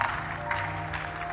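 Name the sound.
congregation clapping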